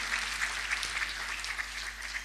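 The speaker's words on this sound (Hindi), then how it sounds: "हम चाहेंगे एक बार आप सब जोरदार तालियों से पंडित अर्जुन मिश्र जी का अभिनंदन करें" At a kathak dance event, an audience claps steadily to welcome Pandit Arjun Mishra, a soft, fairly distant and even patter of many hands with a low electrical hum beneath.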